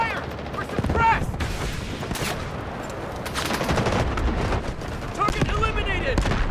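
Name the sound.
gunfire in the video game Delta Force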